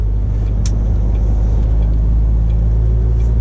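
Car driving on the road, a loud steady low rumble of engine and tyre noise inside the cabin, with a brief faint click early on.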